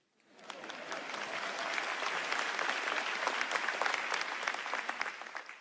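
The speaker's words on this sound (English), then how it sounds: "It's okay to clap." A large keynote audience at an NVIDIA GTC event in Taipei bursts into applause, rising quickly and holding as a dense, steady wash of clapping throughout.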